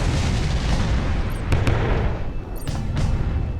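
Defensive turrets fire on a ship in the survival RTS Dark Moon, producing a heavy, rumbling barrage of booms with a few sharp cracks standing out, loud and continuous.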